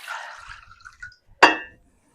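Water poured into a measuring cup in a home kitchen, a short trickling, splashing pour that tapers off, then a brief clear clink of the glass cup being set down, close and quiet.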